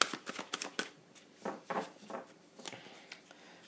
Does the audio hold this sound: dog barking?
no